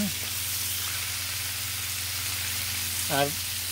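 Food frying on a Blackstone griddle over turned-up heat, a steady broadband sizzle running throughout with a brief voice near the end.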